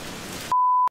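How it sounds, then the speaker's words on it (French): Rain falling as a soft, even patter for about half a second, cut off abruptly by a loud steady beep tone. "La pluie s'est invitée à la partie."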